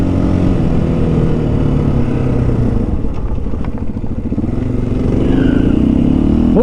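A 2023 KTM 500 EXC-F dirt bike holds a loud, steady high-revving roar throughout, its engine pitch climbing near the end as the burnout winds up, with a rough clattering edge and no talk.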